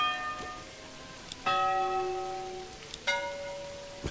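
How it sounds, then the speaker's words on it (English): Church bell tolling in the medieval village builder game Manor Lords, with three separate resonant strikes, each ringing out and slowly decaying before the next. The later strikes have a different tone, and faint rain-like hiss sits underneath. "we do have the ability to change the sound of the bell"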